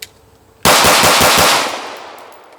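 An FN Five-seveN pistol fires a 5.7x28 round in one sharp, loud report after a brief quiet, with a bright crack and echoing reverberation that fades over about two seconds.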